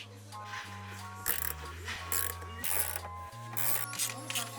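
Ratcheting clicks and mechanical clunks come from a car seat rail being unscrewed and lowered in a Nissan K11 March/Micra, with repeated short ratchet strokes close by and a voice briefly in the background.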